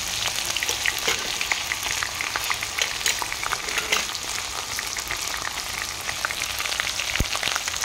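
Ginger frying in oil for a French bean pickle, with a dense, crackly sizzle of popping moisture heard close and fairly loud throughout, with no voices.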